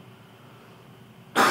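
After near silence, a single abrupt cough bursts out at the very end, close and fairly loud, during a physics class.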